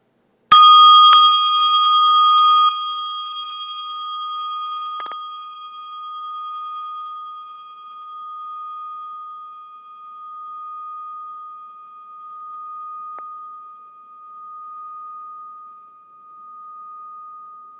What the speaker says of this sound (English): place your attention lovingly, gently on this Tibetan bell